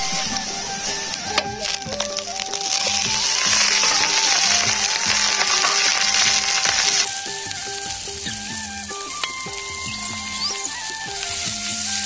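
Food fries in a pan during home cooking, a steady crackling sizzle running throughout with occasional stirring clatter, while soft background music plays underneath and no one speaks.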